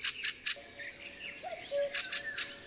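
Fieldfare calls: a few harsh, chattering chirps at the start and again near the end, with a thin whistled note between them, fairly close against quiet woodland background.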